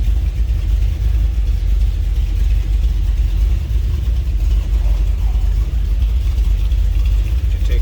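A 1964 Chevrolet Impala SS idles steadily after a cold start, a loud, close, low rumbling exhaust drone with no change in pace or pitch.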